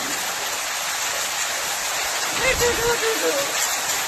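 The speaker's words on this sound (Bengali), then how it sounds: "শিলাবৃষ্টি হচ্ছে, জোর শিলা পড়ছে" Steady heavy rain and hail roar as a dense wash of noise, with a faint voice briefly audible partway through.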